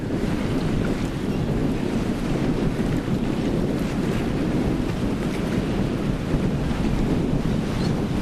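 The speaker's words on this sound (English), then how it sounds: "Fairly windy morning here." Wind blowing across a lake on a fairly windy morning, a loud continuous low roar buffeting the microphone, steady throughout with faint water wash beneath.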